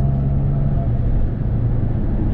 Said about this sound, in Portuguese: Deixar o caminhão passar.